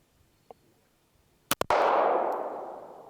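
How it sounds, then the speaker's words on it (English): An FN High Power pistol fires two sharp shots in quick succession outdoors, followed by a third loud crack whose echo rolls away and fades over a second or so. "So I'm gonna shoot these rounds"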